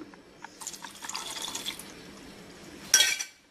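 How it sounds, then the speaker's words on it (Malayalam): Half a cup of water is poured into a mixer jar holding curd for sambharam, a short trickle and splash followed by a brief louder gush near the end, faint and close. "ഇനി നമുക്ക് ഇതിലേക്ക് ഒരു അര കപ്പ് വെള്ളം ചേർക്കണം"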